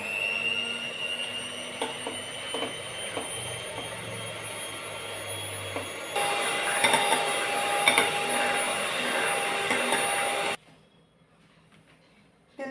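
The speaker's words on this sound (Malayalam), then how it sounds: "ഇത് നന്നായിട്ടൊന്ന് ബീറ്റ് ചെയ്തെടുക്കാമേ. ഇതിലേക്ക് ഞാൻ ഒഴിച്ചു കൊടുക്കുവാണ്. ലോയിൽ നിന്ന് ഹൈയിലേക്ക് വേണം ബീറ്റ് ചെയ്യാൻ." Electric mixer beating whipping cream for a black forest cake whirs steadily, then jumps to a louder, higher speed midway before cutting off abruptly near the end.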